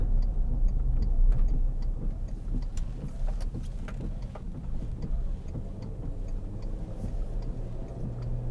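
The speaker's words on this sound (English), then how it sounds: "The engine sounds great." A 2003 Volkswagen Touareg 3.2 V6 engine hums steadily from inside the cabin while driving, a low continuous drone with faint ticking and no talk.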